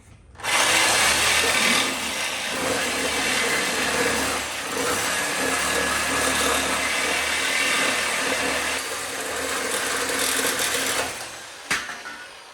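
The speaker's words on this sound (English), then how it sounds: "We cut her off with the sawzall." Reciprocating saw (Sawzall) cutting through a golf cart's muffler pipe, a loud continuous buzzing, grinding whine held nearly the whole time up close before it stops abruptly near the end.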